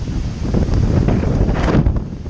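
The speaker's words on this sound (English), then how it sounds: "you can hear the wind blowing" Strong, continuous Hurricane Irma wind in Tampa Bay roaring and buffeting across the microphone, loud and steady with gusty surges throughout.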